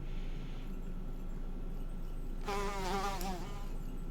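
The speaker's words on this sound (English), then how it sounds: "Why are these bees just like way up there?" Bees buzz in the fantasy game Lord of the Rings Online, a low background hum giving way to a sudden loud, close, wavering insect drone over the game's ambient bed.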